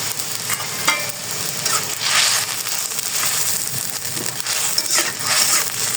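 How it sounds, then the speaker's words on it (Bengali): A spice paste of cumin, ginger paste, tomato and salt sautés in a pan with a continuous loud sizzle and crackle, broken by scraping, crushing stirs. No one speaks. "তো এটা এই যে মশলাটা কষিয়ে নেই।"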